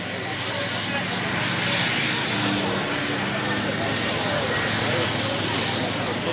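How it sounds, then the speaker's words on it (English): A Supermarine Spitfire flies over a tank show, its engine a broad distant rumble that holds steady throughout, mixed with crowd noise and voices. "our Spitfire is on its way"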